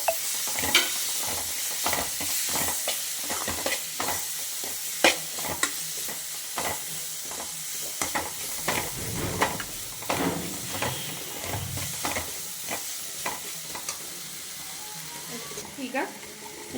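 Tomatoes go into a hot pan for egg curry and are stirred, with a steady close sizzle and repeated scraping stirs while a person talks over the cooking.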